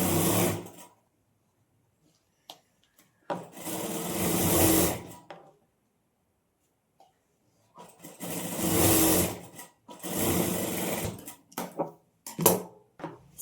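Sewing machine stitching the folded hem of a kurti, running in several separate bursts of whirring stitching with quiet pauses between them, close and moderately loud, with no talking.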